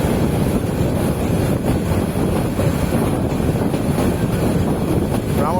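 The Bijoy Express passes Brahmanbaria, heard from its last carriage as a constant, loud, broadband rumble and rattle mixed with wind rush, steady throughout with no speech.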